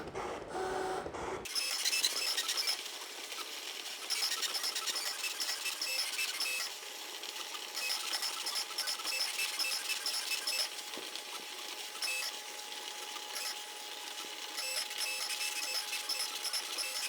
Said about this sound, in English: Now it knows how much to adjust for the depth of the needle. And right now it's performing all the cuts.